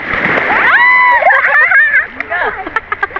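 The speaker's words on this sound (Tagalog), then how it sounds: "Ang lakas ng alon." Strong sea waves crash and splash close by, a loud churning surge that breaks up into short sloshes, with excited voices shouting over the water.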